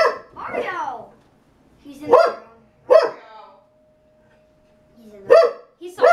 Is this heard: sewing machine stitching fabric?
no